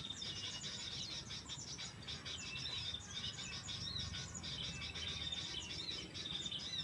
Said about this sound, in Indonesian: Itu dia kutilang.